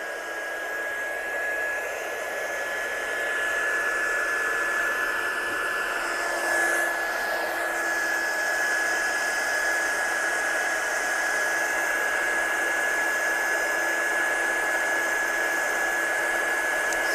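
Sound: heat tool heat-setting gold embossing powder

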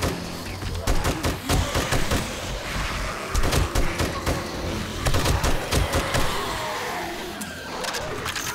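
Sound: gunfire in the video game 7 Days to Die

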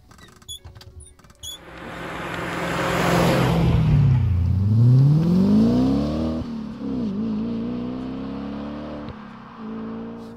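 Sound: Audi S4 Avant 4.2 V8 engine revving

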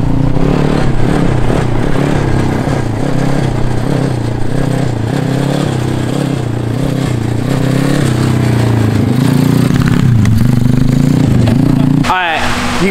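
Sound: mini bike engine revving with aftermarket exhaust

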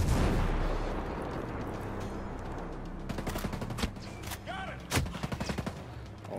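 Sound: shotgun fire from enemy in Ghost Recon Breakpoint video game

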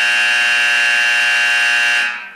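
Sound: fire alarm in Titan II missile silo at main engine start

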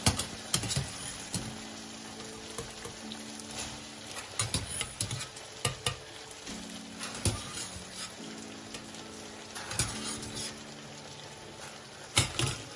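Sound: drained bulgur meatballs added into fried tomato paste sauce

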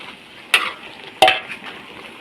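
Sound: stir-frying luffa with pork and chili in a large wok

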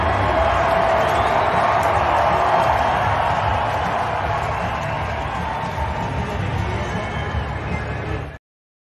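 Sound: hockey arena crowd chanting MVP for Nikola Jokic

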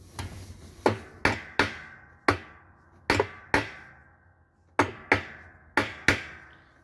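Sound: hammering washer wash plate into place

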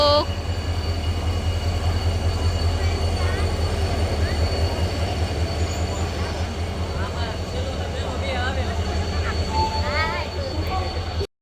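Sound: train arriving at Botad railway station platform

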